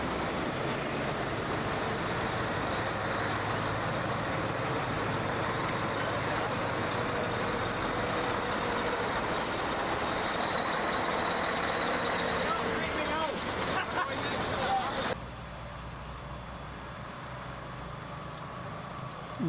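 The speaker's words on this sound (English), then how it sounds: "Followed by yet another Scania 143M." A Scania 143M lorry on a wagon run rolls past amid steady heavy engine rumble with other traffic, the sound dropping off sharply near the end as it moves away; a brief hiss like an air brake sounds midway.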